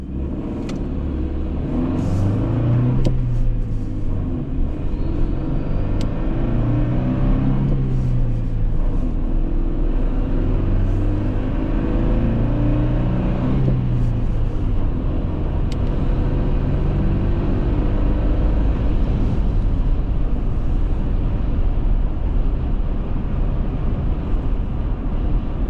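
A 2025 Toyota Tacoma TRD Sport pickup with a manual transmission drives along, its engine rumbling steadily from inside the cab and rising and falling through several gear changes.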